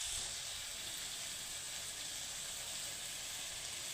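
Bean curry frying in a pan, a steady, even sizzle and hiss that continues without a break at moderate loudness, with no talking.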